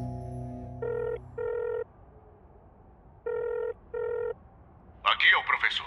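A cartoon telephone rings in a soccer animation, giving two pairs of short bright double rings separated by a pause, clear and close, after a fading musical chord; a voice begins speaking right after.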